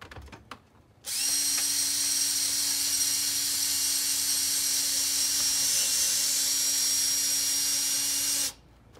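Power drill boring holes into a garage door, a single steady high-pitched whine lasting about seven seconds, close and fairly loud, after a few faint clicks.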